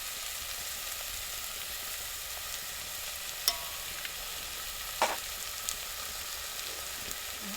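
Onions frying in a pan with a pinch of salt for eggplant olo, a faint, steady hiss of sizzling with a couple of soft clicks from a utensil, no talking.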